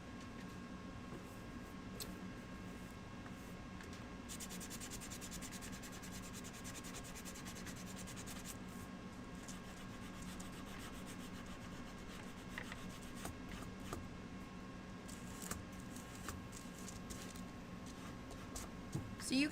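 Sandpaper rubs against a small wooden bunny shelf-hugger craft piece in quick, steady scratchy strokes. The sound is close and faint, and a voice talks over it now and then.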